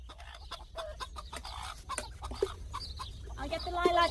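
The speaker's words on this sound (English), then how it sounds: "I must feed the hens." Hens cluck in a farmyard, a scatter of short, close clucks over a low, steady background hum.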